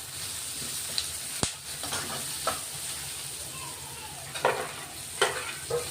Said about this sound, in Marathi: तो आपण आता परतून घेतोय।